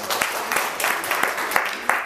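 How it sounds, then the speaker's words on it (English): A small seminar audience at a real estate house-flipping talk gives a short round of applause, with individual claps standing out in a fairly regular rhythm close by. "how about a nice round of applause?"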